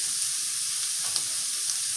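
Pre-boiled chicken empanada filling sizzles steadily in a hot pan, a constant close frying hiss with faint stirring scrapes and no voices.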